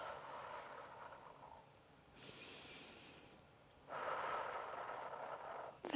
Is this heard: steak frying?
no